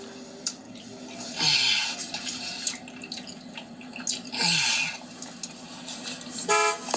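A car horn toots in short bursts, mid-distance, over a noisy street background with dripping and rumbling.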